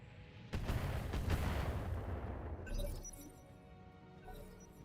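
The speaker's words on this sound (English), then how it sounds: "I'm gonna keep throwing missiles at it" Missiles fired at a tank in BattleTech, a sudden loud volley of blasts and crashing impacts that swells and then fades into scattered clinks and rattles.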